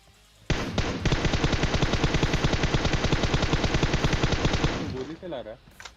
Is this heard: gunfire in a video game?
yes